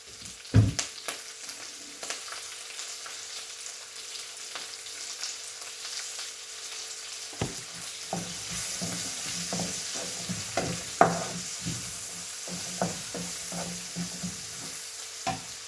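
Beef fries in a pan for chilly beef, a steady low sizzle with repeated scraping stirs and clinks of a spoon against the pan, close by and with no talking.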